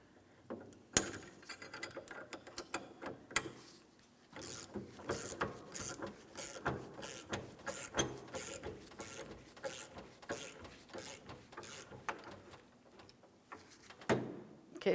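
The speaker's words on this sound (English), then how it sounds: "Use our 24mm wrench for the mounting nut." A 24mm wrench tightening the mounting nut on an idler arm of a 2007-2014 GMC Sierra 2500 HD truck, close-up rapid ratcheting clicks in repeated bursts with brief pauses between them.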